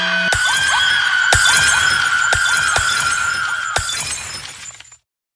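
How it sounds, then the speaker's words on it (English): Glass jars shatter in a loud horror audio-drama effect: a sustained crash of breaking glass punctuated by several sharp impacts over about four seconds, then cut to silence. "The glass jars shattered."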